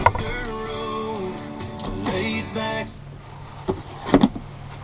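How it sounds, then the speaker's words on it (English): Massey Ferguson 7724 DynaVT tractor steering console tilting, a tonal electric motor whine lasting about three seconds, followed by a few sharp mechanical clicks and knocks near the end. "You can tilt this way, pull this way, and the whole console and the steering wheel comes with you."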